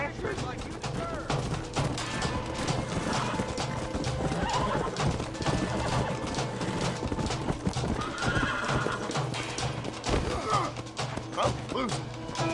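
Horses neigh and hooves clip-clop in the Wild West game Red Dead Redemption, the gallop steady and close while whinnies rise over it, with game gunfire and crashes scattered through a busy mix.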